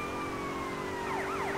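A police patrol car siren in GTA Vice City wails in steady rising and falling tones, then breaks into faster sweeping yelps near the end, close and prominent.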